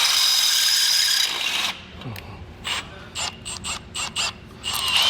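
Larger bit enlarging a pilot hole during a Roadmaster direct-connect base plate install on a 2022 Jeep Wrangler: a steady loud drill whine that stops, followed by a series of short ratcheting bursts close by, with no talk.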